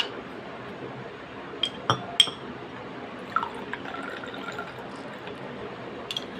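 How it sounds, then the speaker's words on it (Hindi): Water trickles and pours faintly into a glass with a few clinks and small drips, steady and close, with no talk. "तो मैंने और पानी डाला"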